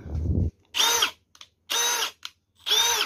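A Milwaukee M12 Fuel Gen 3 brushless 12-volt hammer drill, model 3404-20, runs in three short, loud, close bursts of whining, separated by brief pauses.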